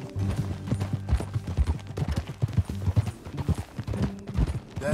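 Horse hooves clip-clop in a quick, rhythmic gait while riding in the video game Red Dead Redemption 2, close and steady over a low ambient hum, with brief irregular thumps mixed in.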